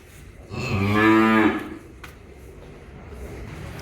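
A Friesian-cross heifer calf gives one loud, drawn-out moo up close, then quiet farmyard background follows.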